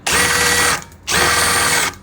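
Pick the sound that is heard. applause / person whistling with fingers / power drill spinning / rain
power drill spinning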